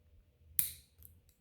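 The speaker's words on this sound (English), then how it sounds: "this makes it easier for me to snip this" Scissors give a single crisp snip while a doll body is being taken apart, alone against near silence.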